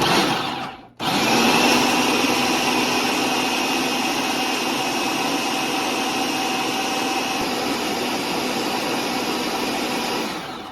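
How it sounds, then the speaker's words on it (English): Food processor chopping jalapenos and cheese: a brief start, a short stop, then a loud, steady motor whir that runs continuously for about ten seconds. "Now remember, you do not have to use a food processor."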